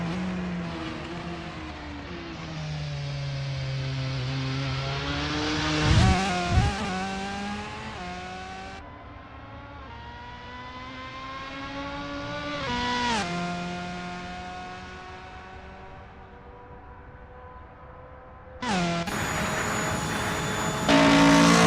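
Race car engines at Le Mans practice in Assetto Corsa, 1997 24 Heures du Mans, rise and fall in pitch as cars accelerate and shift, loud and continuous, with a sharp jump to a new engine near the end.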